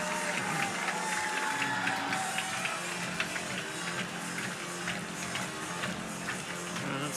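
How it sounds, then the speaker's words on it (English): A home crowd at a college softball game between Oklahoma and Texas rises and claps, a steady dense roar of clapping and cheering filling the stadium without a break, distant and diffuse. "It's got the home crowd up on their feet and clapping their hands"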